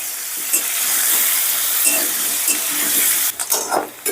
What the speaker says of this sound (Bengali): ভাজার তেলে আলুগুলো ভেজে দিচ্ছি।